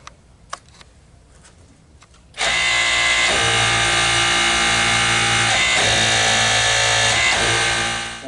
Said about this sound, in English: as I hit the button on the pump, I'm going to be hitting the green button to make the wrench go forward